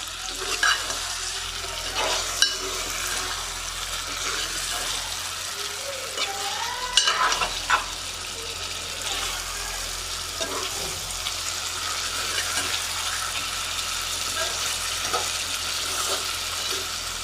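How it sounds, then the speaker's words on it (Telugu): Previously fried eggs stirred into a sizzling egg curry in a pan, a continuous loud frying hiss with scraping spoon strokes and occasional clinks throughout, no voices. "ఇప్పుడు ముందుగా ఫ్రై చేసుకున్న ఎగ్స్ని అన్నీ ఇందులో వేసుకోవాలి. వేసుకొని బాగా కలిపేసుకోండి."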